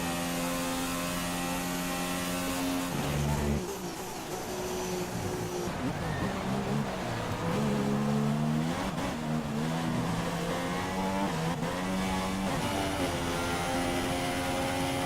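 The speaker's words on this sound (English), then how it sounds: "Vioxic's still driving his F1 car currently" An F1 car in the racing game F1 2016 whines through rising and falling gear shifts, its high engine pitch climbing and dropping repeatedly, steady and moderately loud throughout.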